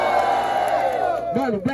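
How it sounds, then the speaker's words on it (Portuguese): At a Brazilian freestyle rap battle, a sustained voice gives way to a crowd's short burst of loud yells and cheers for the verses at the very end. "Eu quero ouvir muito barulho pra quem gostou dos versos de tubarão"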